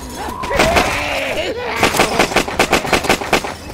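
Rapid automatic gunfire in Left 4 Dead 2, several bursts of loud, evenly spaced shots growing into a steady rattling run, close, with a character's voice briefly heard underneath.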